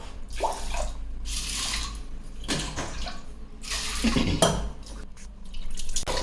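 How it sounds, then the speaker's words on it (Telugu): Toor dal, split pigeon peas, being washed in water, with sloshing and splashing in irregular bursts close by, no talking. "కందిపప్పు అండి, 3/4 గ్లాసు. కడుక్కోవాలండి, 2 తూర్లు కడుక్కో."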